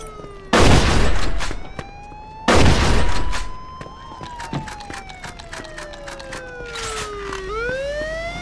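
Police car sirens in Mafia 2 wail and sweep up and down, loud and continuous, with two sharp bursts of gunfire near the start and a rapid volley of shots under the siren afterward.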